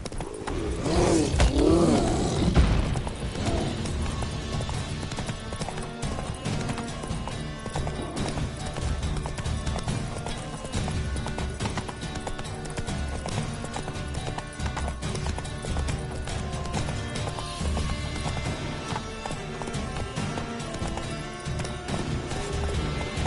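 Geralt's horse Roach gallops in The Witcher 3, with a steady, close run of hoof clip-clops. There are loud, dense impacts early on, then an even rhythm over background game music and ambience.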